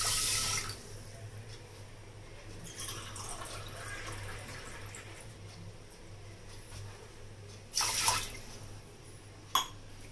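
Water from a glass is poured into a pressure cooker on a kitchen stove, making a steady close liquid splash with a low hum beneath and a couple of short louder splashes near the end.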